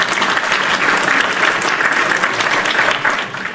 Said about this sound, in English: Hit my hand claps.